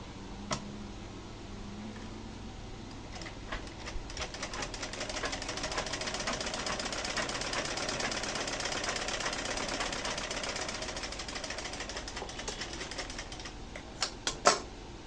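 A sewing machine stitching a test piece of fabric that had been puckering, a steady fast mechanical chatter running through most of the stretch, with a few sharp clicks near the end.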